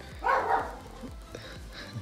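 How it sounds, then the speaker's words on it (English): Several dogs bark in a quick irregular series of short yaps and woofs, somewhat distant and moderately loud, within a quiet indoor space. "dogs barking"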